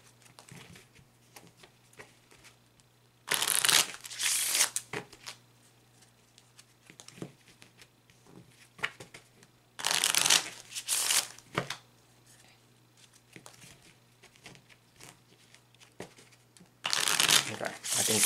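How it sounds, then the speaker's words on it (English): Tarot cards are riffled and shuffled in three separate bursts of crisp, fluttering card noise, close up, with quiet handling sounds between them. "So we're going to shuffle the cards with that in mind."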